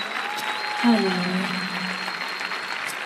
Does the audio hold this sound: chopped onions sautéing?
no